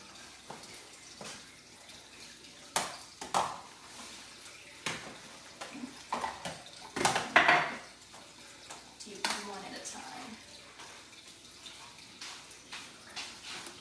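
A small one-cup coffee maker being carried over and set down on a kitchen counter, with scattered close clunks, taps and rattles of handling, one louder knock near the middle.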